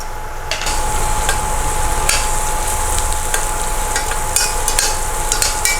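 Onions sauté in a pan, a steady close sizzle with scattered spoon scrapes and taps, continuous and fairly loud, with no talking.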